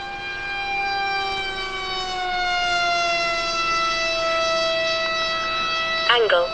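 Electric motor of a ZOHD Alpha Strike RC plane at 60% throttle, a steady loud whine with layered tones slowly drifting in pitch, briefly wavering near the end.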